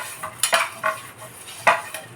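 Metal clatter of a dosa pan being set onto a stove, a few sharp clanks and scrapes at close range over a quiet background.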